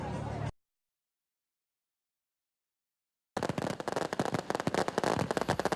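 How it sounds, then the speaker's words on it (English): Grand finale of a fireworks show at a medical center in Cape Girardeau, bursting in a dense, rapid barrage of loud crackling pops and booms after a brief opening burst and a few seconds of silence. "this was the grand finale at last night's fireworks show at St. Francis Medical Center"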